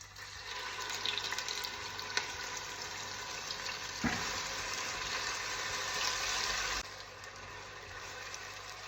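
Cardamom pods frying in hot oil in a pan give a steady, moderately loud close sizzle, with a brief clatter near the middle before the hiss drops away sharply toward the end.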